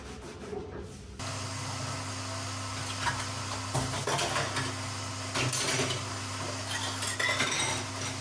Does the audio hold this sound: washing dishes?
yes